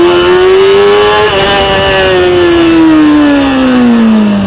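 Motorcycle pulling a wheelie in first gear with the throttle opened, engine howling loud and steady close by, pitch easing slowly downward as the front wheel is carried a few feet.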